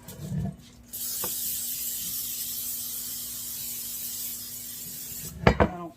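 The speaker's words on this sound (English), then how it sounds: "I'm going to spray my pan" A long, steady hiss of an aerosol can of cooking spray spraying onto a pan for several seconds, close by, framed by a few soft handling clunks before and after.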